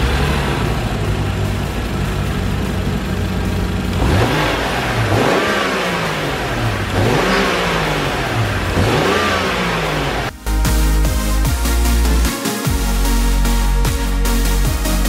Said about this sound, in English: give you guys a few little revs real quick